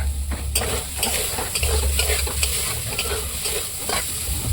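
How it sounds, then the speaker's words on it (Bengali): Soybean pieces frying and being stirred in a pan, with a steady close sizzle and repeated scraping stir strokes throughout, no talking. "সয়াবিন ভাজি বানাচ্ছি।"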